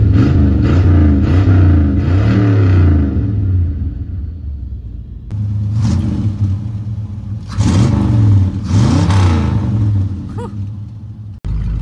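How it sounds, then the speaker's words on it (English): Carbureted Ford LTD engine revved repeatedly in a throttle response test: deep rumbling bursts that rise and fall, a pause at idle, then two more strong revs, loud and close with no talking. "So you asked me if I could do a throttle response video in the LTD."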